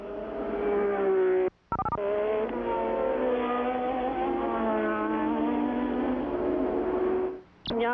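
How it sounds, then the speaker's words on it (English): Formula 1 race car at the 1987 Belgian Grand Prix, a steady loud engine note holding for several seconds, cut off briefly near the start and again near the end. "you're seeing the rear end of a car being driven by Nelson Piquet that had been leading this Grand Prix"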